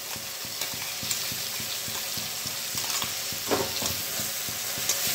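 Tomatoes, garlic and onion sautéing in a pan for a kabuli chana curry, a steady close sizzle under repeated scraping stirs, with a louder spatter of frying around the middle.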